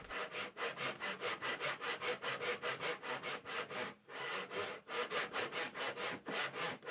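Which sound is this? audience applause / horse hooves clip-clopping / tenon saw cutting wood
tenon saw cutting wood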